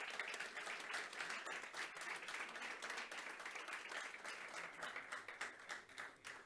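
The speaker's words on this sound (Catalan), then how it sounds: "un fort aplaudiment per ells" Audience applause at a football federation press presentation, a steady wash of many hands clapping throughout, moderately distant, with no talk over it.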